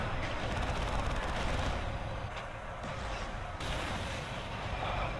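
Assault cannon and artillery fire in a Warhammer 40,000 battle game, a dense, loud, continuous rumble of rapid gunfire and blasts with no voices.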